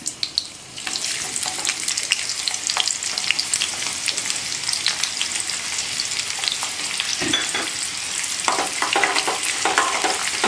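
Garlic and onion frying in oil for spinach dal, a continuous bright sizzle with frequent stirring clicks and scrapes of a spoon against the pan, close and steady throughout.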